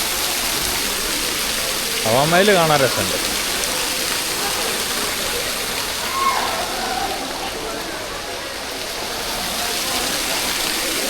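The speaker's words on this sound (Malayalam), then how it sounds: "വെള്ളത്തിൻ്റെ ഫൗണ്ടെയിൻ ഉണ്ട് കേട്ടോ" A water fountain inside Hawa Mahal in Jaipur gives a steady, even rush of splashing water that runs the whole time, while someone briefly speaks over it.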